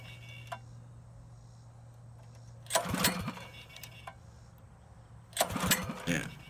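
A small engine fitted with a Tillotson carburetor cranks in two short bursts and fails to catch, with quiet pauses between the attempts and a steady low hum underneath.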